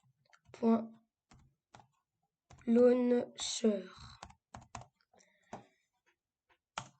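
Scattered, sparse keyboard keystrokes and mouse clicks sound close and fairly quiet, broken up by short bursts of a person speaking.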